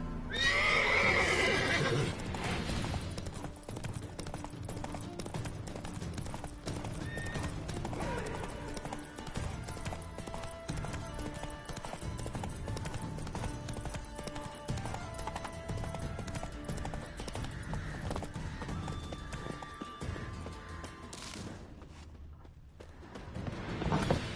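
Roach, Geralt's horse in The Witcher 3, clip-clops along with steady hoofbeats and an occasional whinny, set against a continuous bed of game music and ambience, with no talking.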